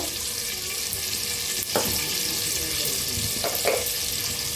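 Whole spices fry in hot butter oil for mutton korma, giving a steady close sizzle with a few soft clinks and stirs partway through.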